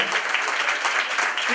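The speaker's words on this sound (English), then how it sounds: "let's give them a round of applause too" An audience at a children's awards event claps for medical center staff, dense and fairly loud throughout the short stretch, with voices mixed into the clapping.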